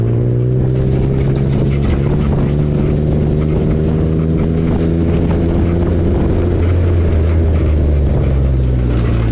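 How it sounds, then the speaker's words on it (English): A turbocharged car engine drones loud and steady at close range, its pitch sweeping as it revs through first and second gear shifts, with no pause in the engine noise. "going to try to hit a couple of first to second shifts with the same throttle inputs"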